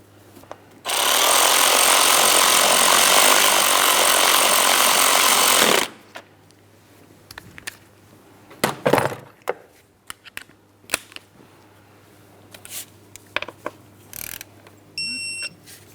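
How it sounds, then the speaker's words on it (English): A 10mm ignition coil mounting bolt being tightened on a 2003-2007 Cadillac CTS 3.6L V6 brings a loud, sustained power-tool whir lasting about five seconds, then scattered metallic clicks and taps nearby. "continue on to tightening the 10mm headed mounting bolt and torque it to 89 inch-pounds"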